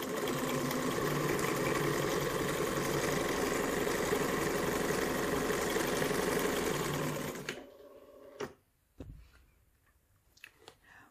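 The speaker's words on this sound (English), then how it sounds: "we're just going to zigzag around all the edges" A sewing machine runs a continuous zigzag stitch around the edges of fabric for a heat pad cover, a loud steady whir for about seven seconds before stopping, followed by a few faint handling clicks.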